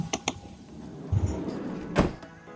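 A simulated CNC machine door closes in Swansoft CNC simulation software, giving a few light clicks and then a firm sliding thud near the end, close and clear with no talking.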